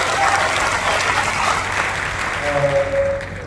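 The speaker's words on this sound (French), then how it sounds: "Est-ce qu'on peut applaudir pour moi?" Sustained audience applause at an inspirational talk, thick and continuous, easing slightly as a voice cuts in near the end.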